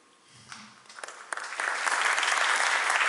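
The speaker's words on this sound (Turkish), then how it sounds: "Onun için alkışlıyoruz sizi." Applause from an audience at a Turkish culture ministry film event starts with a few scattered claps and quickly swells into steady, full clapping that holds to the end.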